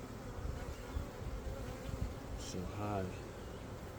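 Honeybees buzzing steadily around an open hive during a beekeeper's inspection of a nuc combined using newspaper; a continuous close drone runs throughout while a person speaks briefly.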